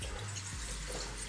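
Leafy greens being rinsed in water for green juice, a steady wash of running and sloshing water, close and continuous, with no speech.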